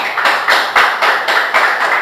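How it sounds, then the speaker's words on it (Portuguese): A church congregation claps in brisk, steady unison, about four beats per second, a full room keeping time together for just over two seconds with no voices over it. "Pode dar um aplauso ao Senhor Jesus?"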